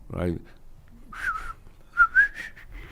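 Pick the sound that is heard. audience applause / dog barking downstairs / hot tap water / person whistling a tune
person whistling a tune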